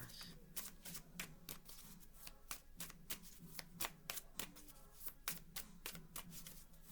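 Chakra cards being shuffled by hand, a quick steady run of crisp riffling flicks that stays close and fairly quiet, with no talking over it.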